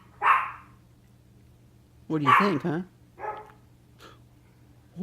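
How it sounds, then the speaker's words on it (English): Indoors, a dog barks in a few short, separated bursts, fairly loud. An adult talks softly to a baby between the barks. "Oh, that's a dog, huh?"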